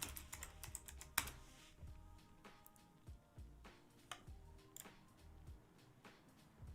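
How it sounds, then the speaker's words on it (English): Keys clack on a mechanical computer keyboard in quick, uneven bursts, close and crisp with a few louder strikes, heard alone at low level. "I think it's your keyboard."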